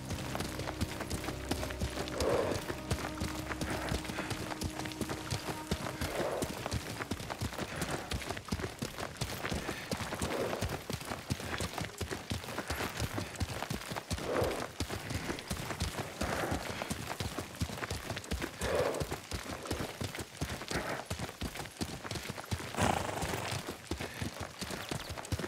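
A horse's hooves clip-clop in a steady galloping rhythm throughout, in Ghost of Tsushima, with occasional brief sound effects and no clear speech.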